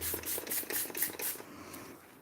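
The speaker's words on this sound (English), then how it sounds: "So a little bit of spray." A spray bottle of isopropyl alcohol is pumped about six times in quick succession, sharp hissy bursts up close, followed by quiet.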